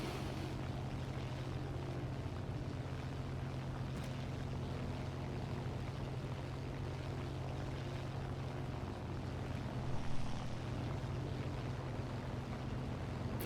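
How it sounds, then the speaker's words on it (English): A propeller aircraft engine drones nearby in the War Thunder game, a steady low hum that holds at a constant, moderate level throughout and swells slightly for a moment near the end. "I hear an engine close to me"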